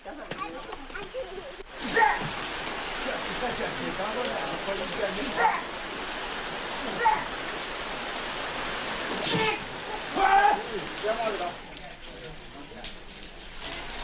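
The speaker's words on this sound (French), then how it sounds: "se mettant à l'abri d'une averse qui tombe" A rain shower falling, a soft, steady hiss of drops with a few brief louder splashes, fairly quiet and continuous.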